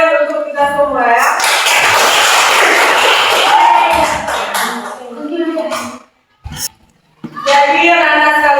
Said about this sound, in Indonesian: Sekarang kita tepuk tangan untuk kita semua ya.